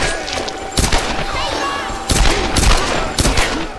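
Gunfire from Tomb Raider: Definitive Edition on PS4 comes in loud, sharp bursts of several rapid shots in a row, spaced by short pauses over the in-game background noise.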